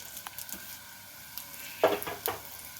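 Lentils and sesame seeds dry-roasting in a pan with tamarind and chilli: a faint, low sizzle with a short burst of scraping stirs and light rattles near the middle, no voices.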